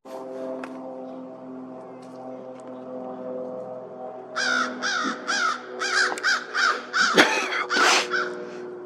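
A murder of crows mobs an owl, loud harsh caws coming in a rapid, ragged run of overlapping calls after a few seconds of low steady drone, fairly close.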